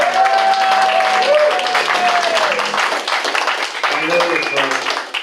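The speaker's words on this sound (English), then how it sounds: "Also a nice warm round of applause for our lovely host, Art." Applause at a community coffee-house live music show: clapping and crowd noise run throughout at moderate loudness. A voice is heard over the clapping, and a louder voice cuts in near the end.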